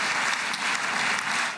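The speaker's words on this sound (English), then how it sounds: "Stopped repeatedly with applause." An audience claps through a president's long peace-agreement speech, a dense, sustained burst of applause that stays steady and fairly loud before easing slightly at the end, with no talking over it.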